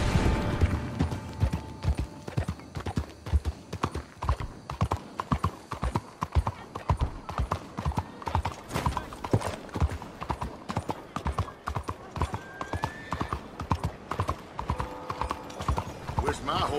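Rhythmic clip-clop of horse hooves trotting steadily on a hard surface throughout in the video game Red Dead Online, with voices talking over the hoofbeats.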